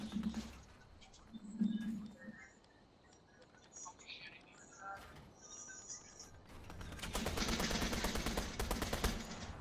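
Gunfire in Fortnite crackles in scattered shots at first, then builds into a sustained rapid volley near the end, with faint game effects and soft voices underneath.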